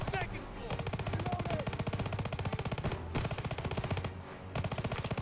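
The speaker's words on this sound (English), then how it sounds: "And he's fucking shooting me more." Gunfire from the video game Call of Duty: WWII comes as loud, sustained bursts of rapid automatic fire that break off briefly twice and resume, with faint game voices beneath.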